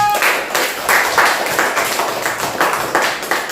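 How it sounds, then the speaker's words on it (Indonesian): A classroom of students claps hands together in a short burst of rhythmic, repeated claps, loud and fairly close, with a teacher's setting in an Indonesian school. "tepuk tangan lagi sekali ya Nana"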